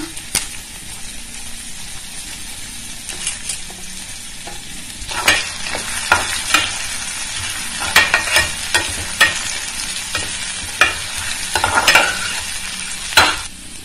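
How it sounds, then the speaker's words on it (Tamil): Curry leaves sautéing in a hot pan, giving a steady sizzle broken by sharp crackling pops and spatula scrapes that grow livelier toward the end. "கறிவேப்பிலை நல்லா வதங்கினோடனே"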